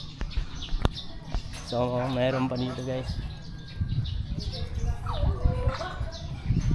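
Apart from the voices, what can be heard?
birds chirping at a farm resort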